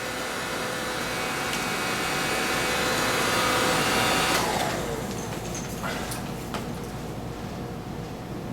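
Cordless stick vacuum cleaner sucking up sand from the floor, a steady loud whine that holds for several seconds and then drops in pitch as the motor winds down. A few small rattles follow.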